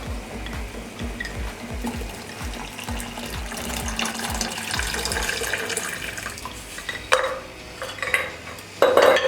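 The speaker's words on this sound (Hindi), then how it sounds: "साथ ही 1 कप ठंडा पानी डालेंगे।" Cold water goes into simmering Kashmiri pink tea (kahwa) along with baking soda, pouring and splashing steadily for several seconds amid clinking pots and sink-like water noise, with a couple of louder clattering bursts near the end.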